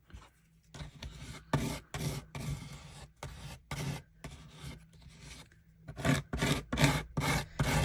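Scraping excess colour off a book page for a paper craft, a series of dry rasping strokes in an uneven rhythm, close and moderately loud, with no talking.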